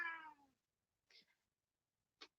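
A house cat pinned down by a dog lets out a loud drawn-out meow, then two short strained cries after brief pauses, close by with silence between.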